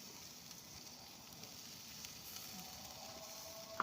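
Steady low sizzling and faint crackling of chicken cooking over a fire, a soft continuous hiss with a small pop near the end.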